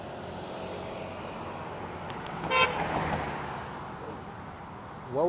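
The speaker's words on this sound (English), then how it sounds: "They just honk their horn because they want to." Car horns honk on a busy Miami street at night, a sharp blast near the middle and another short toot at the end, over steady traffic rumble.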